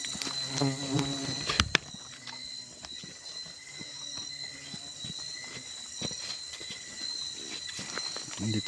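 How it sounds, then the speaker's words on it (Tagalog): Bees hum in a quiet bamboo forest, a soft, steady buzzing drone with insects passing close, mixed with light footsteps and scattered clicks, and no speech over it. "Ang daming bubuyog lang."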